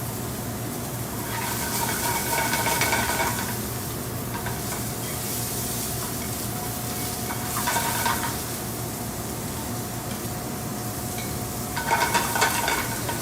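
Mushrooms sizzle hard in a pan kept over high heat, a continuous close crackle with bursts of louder stirring and tossing every few seconds.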